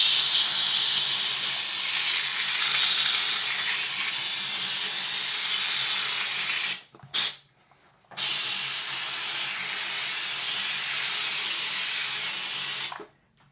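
A TVD steam cleaner sprays a steady, loud, broad hiss of steam while cleaning a sink, cutting off briefly with a short puff near the middle before resuming just as strongly.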